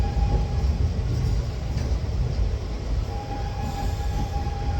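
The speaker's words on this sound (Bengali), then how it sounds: "পাঁশকুড়া জংশন থেকে ট্রেন ছেড়ে দিল" Low rumble and rolling rattle of a train pulling away from Panskura Junction, with a thin wheel squeal rising in and out, continuous and close.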